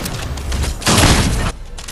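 Gunfire from a lever action rifle in the video game Fortnite, a loud, dense burst of booming shots that swells for about half a second and then drops off, close and alone.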